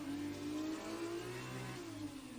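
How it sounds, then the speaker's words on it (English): An F2 race car engine from a racing game revs in a steady, smooth mid-pitched drone with slight pitch swells, alone and fairly quiet, at the Monaco circuit. "who thinks that the F2 cars sound a little bit nicer than the Formula 1 cars?"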